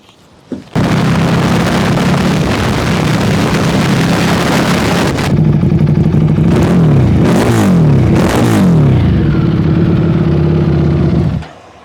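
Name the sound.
motorcycle engine revving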